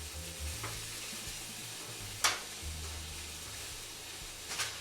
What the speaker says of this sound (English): You can hear those sausages just sizzling right back there.